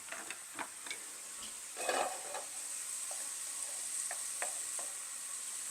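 Vegetables sizzle steadily in a pan for a paleo breakfast, a continuous hiss broken by occasional sharp clicks and scrapes of a utensil stirring them.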